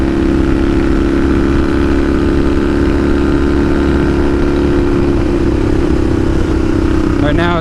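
A Kawasaki KZ750 Scrambler motorcycle engine with an intermittent misfire that drops one cylinder runs loud and close in a steady drone, then briefly revs upward at the very end.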